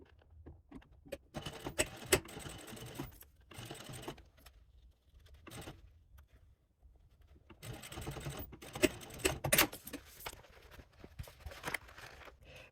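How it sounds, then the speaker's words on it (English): Bursts of a sewing machine top stitching clear vinyl in quick stitching runs, stopping and starting with short pauses between, close by with no talking. "Then we will take it to the sewing machine"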